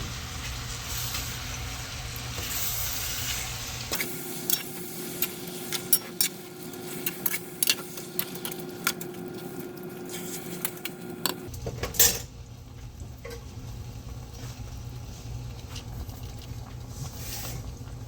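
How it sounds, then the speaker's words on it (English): Corn kernels, black beans and whole red tomatoes tumble into a cooking pot with a run of close clinks, taps and knocks against metal over a steady background hum. "I'm just going to add some kernel corn in there, some black beans, and some whole red tomatoes"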